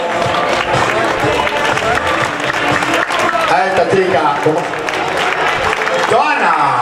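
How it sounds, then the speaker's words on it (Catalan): A crowd claps and cheers steadily for a runner crossing the finish line of the 29th Canals half marathon, sustained applause under a loud announcer's voice. "Ara com aplaudim a un fort aplaudiment"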